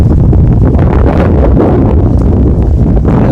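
Cool evening wind blows steadily across the microphone outdoors, a loud, continuous rumbling buffet that holds without a break from start to finish.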